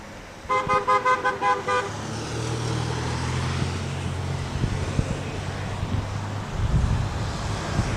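A passing car sounds a rapid string of short horn toots on Motor Parkway, a busy road on Long Island, followed by steady traffic rumble and wind noise on the microphone.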